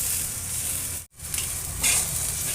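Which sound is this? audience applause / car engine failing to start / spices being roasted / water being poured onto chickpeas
spices being roasted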